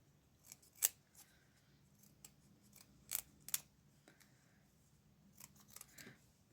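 Scissors snip through fabric while rough-cutting the separate pieces of an Easter bunny poppet, a few quiet close cuts scattered with soft pauses between them.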